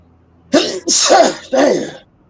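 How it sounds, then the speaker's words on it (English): A man sneezes in three quick, loud bursts, close to the microphone, with quiet before and after. "Sneeze attacks."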